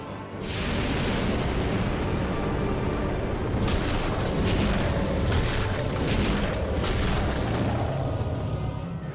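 The Ancient Dragon in Dark Souls 2 breathes fire: a loud, sustained rumbling roar of flame that swells in within the first second and holds steady for about nine seconds, with crackling bursts flaring through it and no voices.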